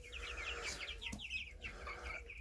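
Hens cluck softly in a hen house with twelve nesting compartments, a run of quick, faint clucks and chirps at a moderate distance against a low background hum, with no talking.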